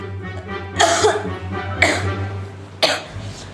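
Three harsh coughs, close and loud, spaced about a second apart over a low steady hum.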